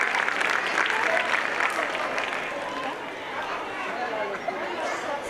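Steady applause at an Urdu school's annual gathering, a broad crowd of clapping hands mixed with chatter that continues evenly throughout.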